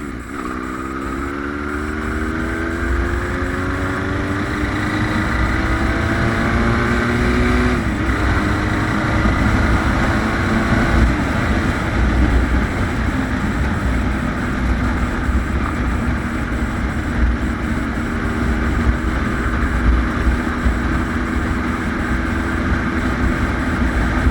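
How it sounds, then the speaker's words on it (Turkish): A Regal Raptor 350 motorcycle engine drones steadily throughout, its pitch climbing and dropping as it shifts through five gears, with constant wind and road noise. "Sanırım 5 vites motosiklet."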